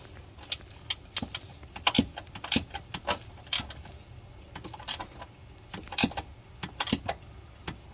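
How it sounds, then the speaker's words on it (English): Clicks and ratcheting from tightening a bracket on the cold air intake of a Ford diesel, a run of irregular sharp metallic ticks and taps close up. "I'm gonna hold it when I tighten it because I don't want it to jiggle around on me"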